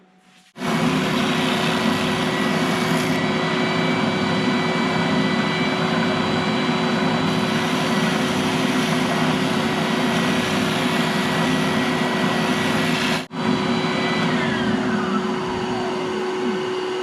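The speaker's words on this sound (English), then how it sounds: "we're gonna use the drum sander, the oscillating spindle sander, to remove those lines" A Bauer oscillating spindle sander works on reclaimed pallet wood, giving a loud, steady motor whine with a rough abrasive hiss. It starts abruptly, keeps going without a break and dips briefly once near the end.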